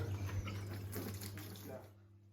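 Water running steadily while an aquarium filter is drained, a close, even splashing flow that cuts off near the end.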